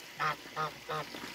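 Three loud, evenly spaced quacks from domestic ducks on a rural farm, each short and nasal, with a fainter fourth call trailing at the end.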